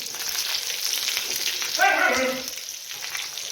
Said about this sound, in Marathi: अशा प्रकारे आपण या मिरच्या टाकून घेऊया तेलामध्ये